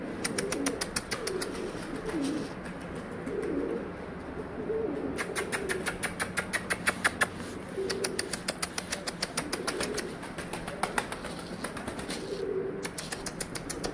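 Pigeons around a loft, where escaped birds are about to fly off, with bursts of rapid wing flapping and soft cooing over a steady outdoor background, heard nearby and moderately loud with no voices.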